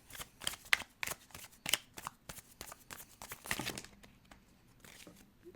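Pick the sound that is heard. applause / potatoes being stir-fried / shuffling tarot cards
shuffling tarot cards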